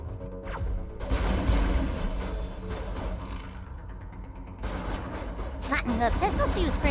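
Pistol gunfire in the video game Mass Effect, several sharp shots and bursts in close succession amid dense game noise, with a voice talking over parts of it.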